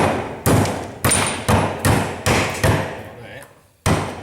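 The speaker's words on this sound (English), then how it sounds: "if I give that a bit more of a smack and a chisel, I can get rid of that as well" Hammer and chisel blows striking an alternator armature inside an aluminium case during a repair, about seven sharp, loud thuds at a steady, slightly uneven rhythm, each ringing briefly before the next.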